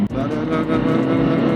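An Opel Astra 1.3 CDTI diesel with a Stage 1 tune pulls at full throttle, a steady, loud, close engine drone with a brief dip near the start and no talking.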